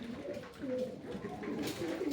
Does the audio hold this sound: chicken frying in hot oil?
no